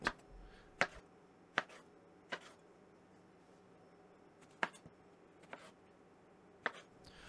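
A knife dicing cucumbers on a cutting board into half to three-quarter inch pieces, sparse sharp chops spaced irregularly, close and clear against a quiet kitchen background.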